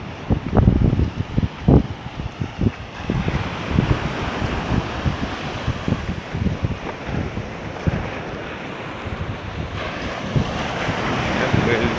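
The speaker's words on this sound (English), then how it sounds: "I've reached Pirates Cove Beach, which is at the southwestern end of the city, and it's also in the Carlisle Bay area." Surf rolls and breaks steadily onto Pirates Cove Beach in Carlisle Bay on the southwest coast of Barbados near Bridgetown, with gusty wind buffeting the microphone and thuds early on, a continuous outdoor wash with no talking.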